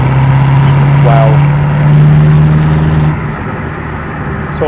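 A 2016 BMW M6 Competition Package on the road, its engine giving a steady loud drone heard from inside the car, with a strong held tone that eases off part way through and constant road roar underneath.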